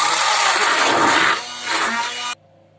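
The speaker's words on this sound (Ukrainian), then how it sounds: "тому я перетру погрузним блендером" An immersion blender purees red currants for a jam-jelly, giving a loud, close whirring buzz that dips and rises as it works through the fruit, then cuts off abruptly near the end.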